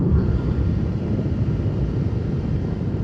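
Steady, loud wind buffeting rushes over the helmet while riding a BMW S 1000 XR motorcycle with an adjustable windscreen, a dense low roar that stays constant throughout with no talking.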